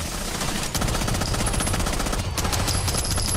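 Rapid automatic gunfire bursts in Rainbow Six Siege ring out loud and continuous, with a brief pause near the middle before the shooting resumes.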